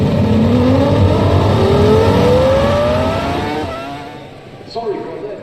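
A Formula 1 car engine in the F1 2003 racing video game, its high-pitched whine rising steadily in pitch for several seconds as the revs climb, then fading out, with a voice talking over it throughout.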